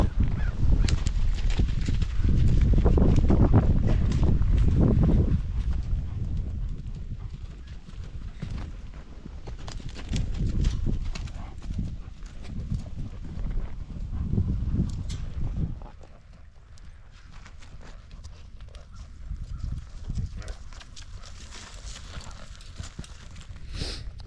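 Hooves of a horse named April clip-clop steadily as she is ridden and warmed up during training, a continuous rhythmic beat with louder stretches and occasional honking fowl in the distance.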